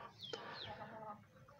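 Thai chickens cluck softly nearby, giving a few short rising calls and murmured clucks over a faint background, with no talk heard.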